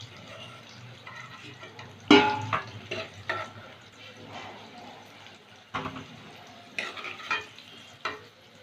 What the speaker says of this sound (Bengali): আলুটা ভাজা হয়ে গেছে, তুলে নিচ্ছি।